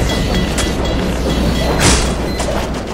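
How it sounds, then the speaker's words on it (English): A train rushing past in Team Fortress 2: loud, dense roaring rumble filling the whole stretch, with a couple of brief bursts swelling above the steady noise. "Train's got no brakes."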